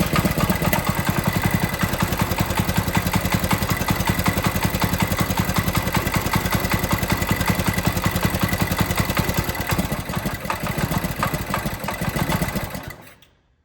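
A small engine on an abandoned go-kart runs steadily at close range with a rapid, uneven putter, sputtering as it starves for fuel with the choke off, then cuts out abruptly near the end.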